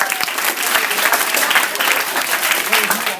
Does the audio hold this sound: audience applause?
yes